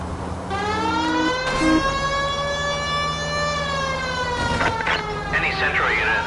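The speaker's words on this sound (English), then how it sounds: "Why don't you use the siren?" A police car siren in L.A. Noire wails continuously with a steady rising-and-falling tone, loud and close, with brief mechanical clicks and noises breaking in near the end.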